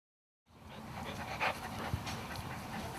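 A dog panting close by, quick rhythmic breaths starting after a brief silence and continuing steadily to the end.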